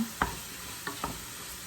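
Vegetables being stir-fried for yakisoba: three quick, separate spatula scrapes stand out over a steady, quiet sizzle in the pan.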